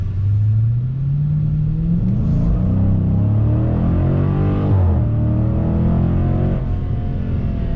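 A muscle car with a naturally aspirated 6.4-liter, 392-cubic-inch V8 and an automatic gearbox rumbles loudly from inside the cabin as it drives, its engine note rising and falling as the throttle changes, with no talk over it.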